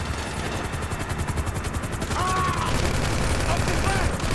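Helicopter rotor drone and bursts of gunfire from the video game GTA 5, a steady loud wash of rotor noise with rapid shots layered through, while voices talk over the action.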